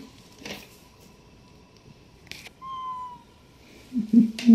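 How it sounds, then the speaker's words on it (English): A cat gives a few short meows near the end, close and fairly clear, after a quiet stretch with faint rustling and a brief tonal squeak. "I don't know what that kind of meow that you just did"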